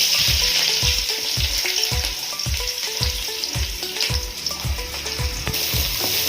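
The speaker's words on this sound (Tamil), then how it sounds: "வெங்காயம் நல்லா பொன்னிறமாக வர வரைக்கும் வதக்கிக்கலாம்." Onions fry in hot oil with popped mustard seeds and chillies, a loud, continuous crackling sizzle close up, punctuated by regular scraping stirs of a spatula against the pan, with no voices.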